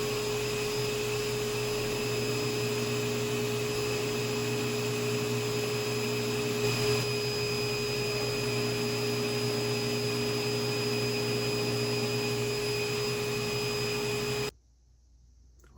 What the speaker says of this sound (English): So now we're gonna do some buffing.